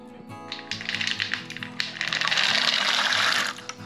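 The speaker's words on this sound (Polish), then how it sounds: "Do wody wsypujemy jagody" Blueberries are tipped into water in a pot, a close, busy clatter of small taps and splashes that builds into a dense rushing patter before stopping.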